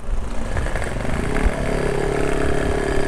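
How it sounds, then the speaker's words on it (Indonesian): A motorcycle engine revs hard and steadily, loud and close, with a strong low rumble and a rising tone through the second half. There is no speech. "Anjir motornya emang kencang si Adi oi"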